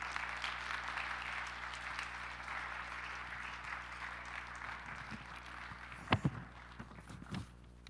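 A church congregation applauds together in a steady, dense wash of clapping to welcome the pastor at a Sunday service, then it thins to a few louder thumps near the end.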